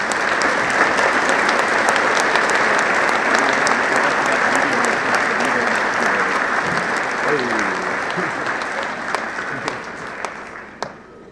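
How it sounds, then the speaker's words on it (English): A college commencement audience gives a sustained round of applause, a broad, even wash of many hands clapping that fills the hall for several seconds before gradually thinning and fading, with a few scattered voices underneath. "I would like to ask you all to give a round of applause to Sinclair Orendorff at this very moment"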